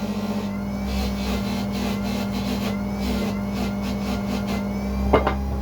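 A polishing buffer's wheel, used for restoring estate tobacco pipes, spins with a steady loud motor hum while being cleaned, and a brief scraping contact sounds near the end.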